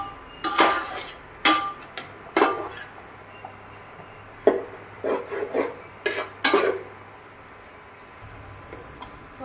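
A spatula scrapes and clinks against a pan while vegetable fried rice is stirred, several separate metallic strokes with short quiet gaps between them.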